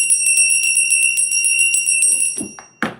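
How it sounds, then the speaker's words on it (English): A bell rings in rapid repeated strikes, bright and loud with a sustained shimmering tone, then stops and gives way to a few short rustling sounds near the end. "let's ring that bell for you"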